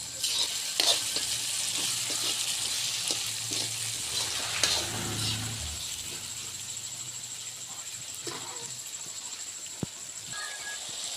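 Ingredients sauté in a pan for a spicy crab gravy, giving a soft, steady frying sizzle with occasional scraping stir sounds and small clicks, fairly quiet and close.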